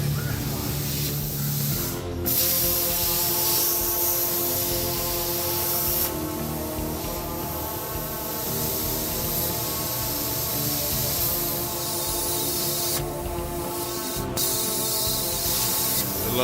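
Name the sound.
plasma cutter cutting a metal seat support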